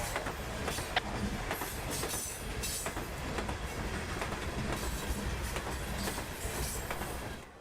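CSX freight cars, part of the northbound Juice Train behind locomotive 1871, roll past steadily near Rockport Yard with continuous rumble and clickety-clack of wheels over rail joints, close and loud for the whole stretch.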